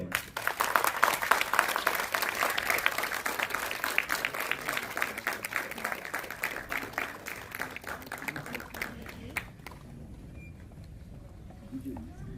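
Audience applause welcoming a film's producer, a dense burst of clapping from a seated crowd that gradually thins and fades out over about ten seconds, followed by a quieter room.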